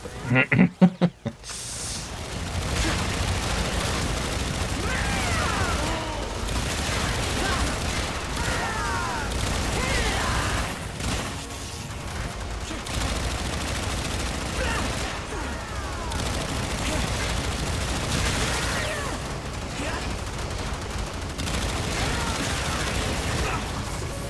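Dense, continuous gunfire from the video game Warframe rattles throughout, with rapid bursts and impacts layered over game effects, after a brief loud flurry at the very start.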